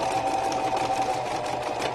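A sewing machine stitching along the edge of a vintage-style journal cover, a close, rapid, steady mechanical whirring and clatter running continuously without talk.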